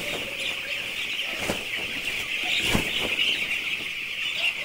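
Vaccinated poultry birds in a shed cluck and stir amid a steady high insect-like hiss, with a few brief flaps or bursts, with no talk.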